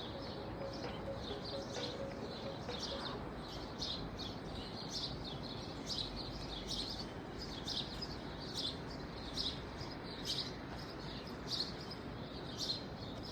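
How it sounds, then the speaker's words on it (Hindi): Small birds chirp repeatedly in quick, high calls over a steady, broad rushing wash of the Alaknanda River near Badrinath. "केवल चिड़ियों की आपको चहचहाट सुनाई देगी"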